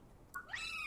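A tomb cat creature in the video game Palworld gives a short rising meow, faint at first, then a brief tonal cry swelling into a held, clear note near the end.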